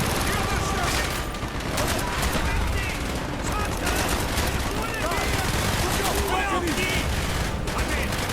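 Dense, continuous video game gunfire from Call of Duty: Black Ops crackles throughout, rapid bursts and mortar booms layered over each other with a voice talking underneath.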